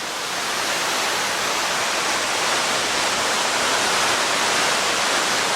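Waterfall at Watkins Glen State Park in a gorge, a steady broadband rush of falling water holding even and loud throughout, with no voices.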